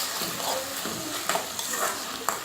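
Paste of ground ginger, garlic, green chili and coriander stems frying in a pan for vegetable fried rice, with a continuous soft sizzle and a few sharp spoon-against-pan clinks as it is stirred.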